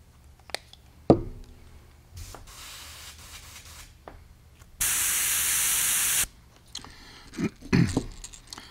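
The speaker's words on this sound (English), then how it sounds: "And I want to paint about the top half of this bait now orange, covering up part of the yellow." An airbrush fires Wicked Orange paint onto a fishing lure in one steady, loud hiss lasting over a second, framed by quiet clicks, taps and handling knocks nearby.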